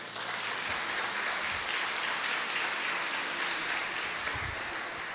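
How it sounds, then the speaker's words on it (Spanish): An indoor audience applauds to welcome a speaker at a Holy Week church conference, a dense, steady wash of clapping from a sizable crowd that continues evenly throughout, without voices. "Recibimos a Monseñor con un aplauso."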